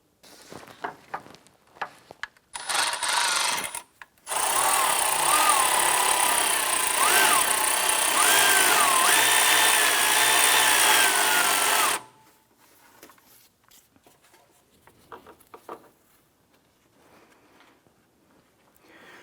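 A power tool tightens the alternator adjuster bolt on a 2001-2005 Honda Civic. A few short bursts lead into a loud, steady whirring run of about eight seconds, then only quiet clicks and handling noises remain.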